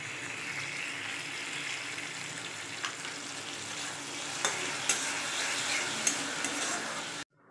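Maggi-style Indian ramen in a pan hisses and sizzles steadily as soy sauce is added and stirred in, with a soft continuous fry and a few light scraping taps before it stops.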